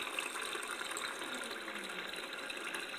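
Water gushes steadily from a tap, a continuous close hiss and splash running without pause and with no voices.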